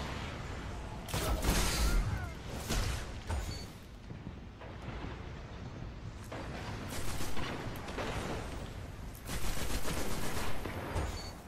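Rapid bursts of automatic gunfire in a video game gunfight, loud volleys of several seconds each, broken by short quieter gaps with lighter shots and explosive cracks.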